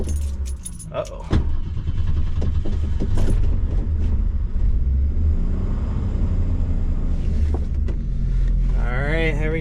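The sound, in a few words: 1973 Ford Maverick engine starting and running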